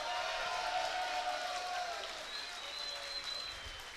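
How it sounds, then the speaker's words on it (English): Crowd applause rings out for two kickboxers after a three-round K Series bout, a steady wash of clapping that stays fairly distant and even, with a faint tone running beneath it. "How about a nice round of applause for these 2 great fighters?"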